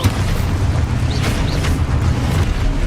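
A spell explosion cast in the Hogwarts Legacy video game booms loud and steady across the whole stretch, a dense low rumble with brief bright bursts on top and no voices.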